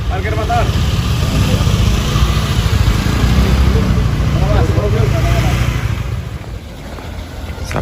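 Motorcycle engine idling and rumbling steadily close by while parking in a village in Wonosobo on Eid morning, with faint voices and crowd murmur around it.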